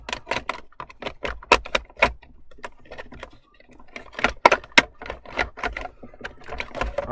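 Plastic clips are pushed sideways to free a plastic trim piece, giving a rapid series of sharp, close clicks and taps with short pauses, no voices.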